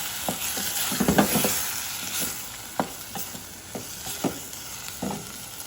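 Tomato rice with salt cooks in a pan, sizzling softly beneath scattered scraping strokes of a spoon stirring, irregular and close.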